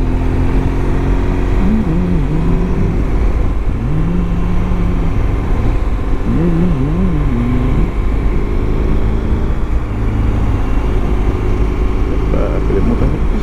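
A BMW R1200GSA motorcycle ridden through rain and wind on mountain roads, with a constant close engine drone and rushing wind that stay steady throughout, and a voice humming faintly underneath.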